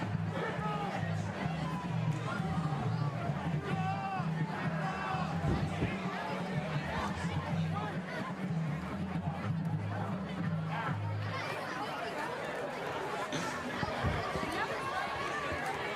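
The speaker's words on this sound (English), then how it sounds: "Wow, and you can hear the fans." Crowd noise from fans in the stands at a high school football game between Norwood and Mariemont, a continuous roar of chatter and cheering with a commentator's voice over it throughout.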